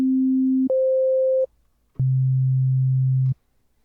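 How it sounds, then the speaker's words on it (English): Pure synthesizer sine tones held at three different pitches, each a steady, plain hum with clicks where one tone switches to the next. "this is what a sine wave sounds like"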